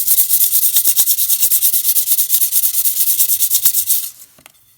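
Fast back-and-forth strokes of folded 400 grit sandpaper on a broken ceramic repair, a steady run of close, loud scratchy rubs that stops abruptly near the end, leaving near silence.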